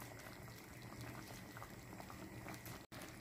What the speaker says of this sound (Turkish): Ve şöyle 1-2-3 dakika kaynasın dostlar.